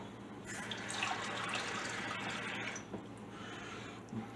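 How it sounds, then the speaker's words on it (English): Water runs steadily from a tap into a rice cooker pot of rice, a continuous splashing fill at close range with no talk over it. "you're going to want to add twice as much water as you have rice"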